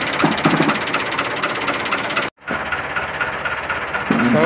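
A 640-model tractor engine running at a sugarcane field, a loud steady chugging drone with a brief drop near the middle and a rising rev toward the end.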